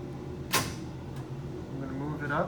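Door of an Instron testing machine being closed, a single sharp sliding clack near the start followed by a fainter knock and some soft rattling, with a voice speaking underneath.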